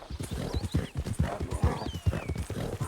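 Rapid, rhythmic hoofbeats of a galloping horse in Red Dead Redemption 2, close and steady, with a brief whinny overhead.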